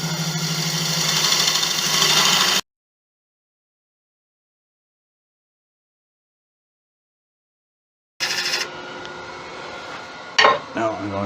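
A wood lathe turning a Japanese Wan Nari style bowl during rough shaping cuts: a steady motor hum with scraping tool noise, then a long stretch of silence before the whirring resumes with a few sharp clatters.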